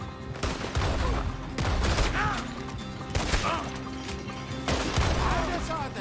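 Gunfire in Red Dead Redemption 2 during a street chase, with several sharp shots cracking out in irregular bursts amid the clatter of a shootout and shouting voices.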